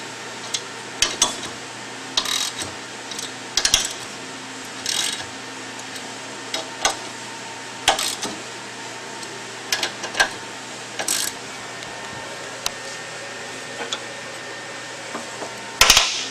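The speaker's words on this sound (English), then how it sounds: "I'm going to tighten it down until the pressure plate makes contact with the housing." Bolts being tightened on a friction clutch pressure plate for a driveshaft, producing a long series of sharp metallic clicks and ratchet ticks at irregular intervals over a steady low hum, with no one speaking.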